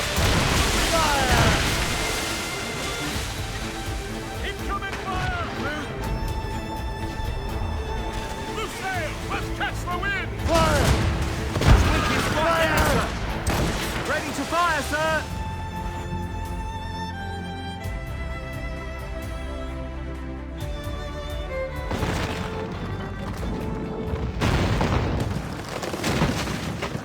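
Cannon fire and explosions boom in an Assassin's Creed Rogue naval battle, with repeated deep blasts under shouted crew orders, swelling music and ship noise.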